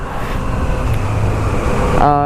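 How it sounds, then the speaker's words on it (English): A Yamaha FZ-09 850 cc street fighter motorcycle engine held near its rev limit, a loud sustained high-revving drone that climbs at the end into sharp, steady harmonic tones. "I hit the rev limit."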